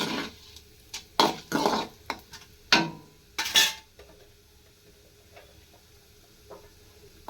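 Chopped onions go into a frying pan, several sharp clattering scrapes of a spoon against the pan in quick bursts, then quieter stirring taps over a faint sizzle.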